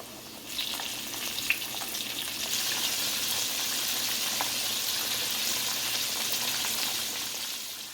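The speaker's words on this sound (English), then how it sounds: "Now you can fry these in batches." Shrimp frying in hot oil in batches, giving a continuous soft crackling sizzle that holds steady at a moderate level with a few small pops, and no talking over it.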